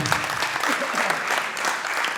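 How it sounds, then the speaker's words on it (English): Audience clapping at an eightieth birthday event, a brief steady round of applause with voices mixed in throughout. "yes, you can clap."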